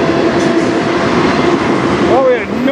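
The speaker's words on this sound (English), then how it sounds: "The train car is almost bouncing around," Autorack freight cars on a CN train at Sarnia, Ontario, roll past close by and loud, a continuous rumbling roar with a brief wheel squeal near the end as the cars wobble and bounce on the track.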